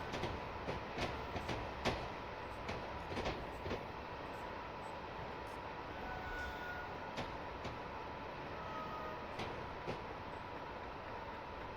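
Train running on rails in Train Simulator Classic, the Royal Scot, with steady rolling rumble and regular clicking wheel beats on rail joints throughout, moderately loud and continuous.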